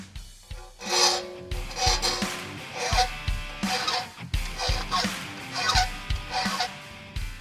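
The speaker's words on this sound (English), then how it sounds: "Now if you got a good clean file, this should cut nice and quickly." A flat file rasps along a metal edge on a mud-racing Willys mega truck build, in steady, rhythmic strokes of about one per second, close and clear, with no talking.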